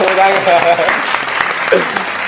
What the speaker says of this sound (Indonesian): tepuk tangan dulu guys, tepuk tangan